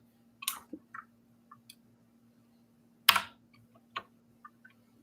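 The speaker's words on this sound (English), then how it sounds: "let's just start typing" Sparse, irregular keyboard clicks, a few isolated keystrokes and one louder tap, against a faint steady electrical hum.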